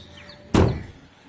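A heavy Ford EcoSport diesel door swings shut with a single solid, close thud that fades quickly in a quiet setting.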